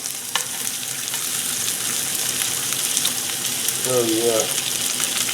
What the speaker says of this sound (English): And let that fat just sear.